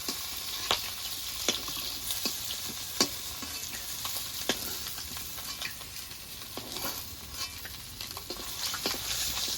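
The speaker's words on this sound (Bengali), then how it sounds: "বাকি মাছগুলো এইভাবে ভেজে নেব" Boal fish pieces sizzle in hot oil with a steady crackling hiss, broken by sharp ticks and occasional scraping stirs at close range.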